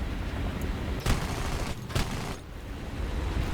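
I-29 fighter's aircraft cannon in War Thunder, heavy bursts rumbling over loud continuous engine and airflow roar, with two sharp booming shots standing out roughly a second apart.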